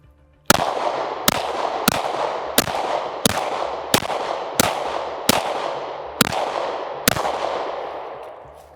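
Ten evenly spaced Glock 19 handgun shots at an outdoor shooting range, each a sharp, loud crack followed by a long ringing decay, fired at a steady pace of about one per second with no talking.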